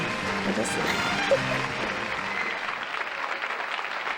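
Studio audience applauding a Rodney Dangerfield stand-up set on a late-night talk show, a dense, steady wash of clapping that tapers slightly toward the end, with a few faint voices mixed in.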